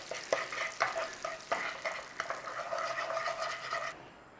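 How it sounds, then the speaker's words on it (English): Sugar and butter stirred together in a pan over a low flame, for a no-oven chocolate banana cake: a spoon scrapes and clacks against the pan in a loose rhythm over a soft, steady sizzle, close up, with no talking. "Let's get this sugar dissolved with this butter."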